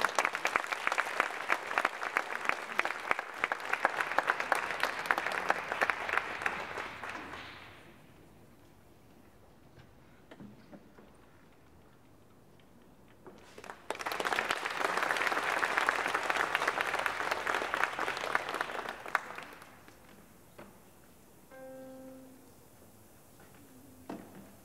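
A concert audience applauds at a choir night, greeting soloists for an arranged folk choral piece. Two long, loud bursts of dense hall clapping are separated by a quieter lull, and a brief tonal sound follows near the end.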